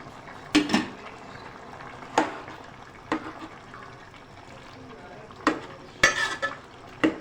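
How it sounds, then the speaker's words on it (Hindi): Tomatoes tipped into hot oil with garlic and ginger for a Butt karahi, giving a few sharp clattering stirs and spoon knocks over a soft, steady sizzle, with no talk. "अब मैं साथ ही इसमें डालूँगी टमाटर।"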